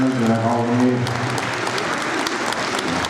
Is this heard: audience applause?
yes